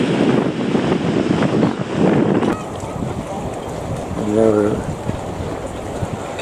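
Gusty wind buffets the microphone by the sea at Balmoral, Sydney, with waves and broad rushing noise; a brief tonal sound rises midway through.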